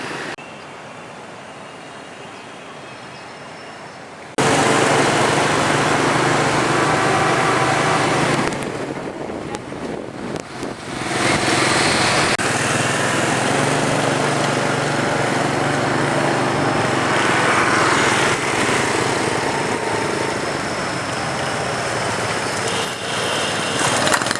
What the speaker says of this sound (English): Lots of motorbikes.